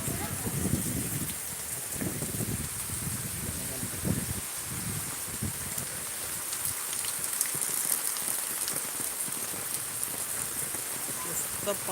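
Rain in eastern Miraj, India, falls steadily, pattering on surfaces with a constant hiss, with scattered louder drips and thuds throughout.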